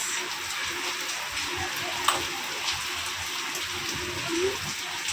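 First monsoon rain falling in Mumbai, a steady broadband hiss of rainfall close by, with a few brief louder spatters and no talking.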